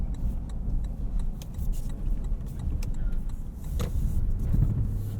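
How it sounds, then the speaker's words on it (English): Faint ticks and light rattles from the rear cargo area of a 2019 Lexus LX 570 two-row SUV on a night drive over bumps, scattered irregularly above a steady low road and cabin rumble. "Something's just rattling around a little bit over bumps in the back."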